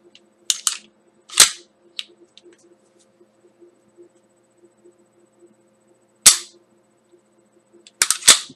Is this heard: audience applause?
no